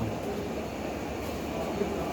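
Steady low rumble and hiss of a passenger train standing at a railway platform on a Chattogram to Kolkata route, continuous mechanical noise with no voices.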